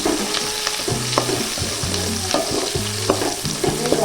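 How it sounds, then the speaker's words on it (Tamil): Onions and curry leaves sauté for a Kongunadu chicken gravy, a loud continuous sizzle broken by repeated metallic scrapes and taps of a spoon stirring in the pot, with a low tonal hum beneath. "நல்லா வதங்கிட்டு வெங்காயம். கருவேப்பிலை சேர்த்துக்கலாம்."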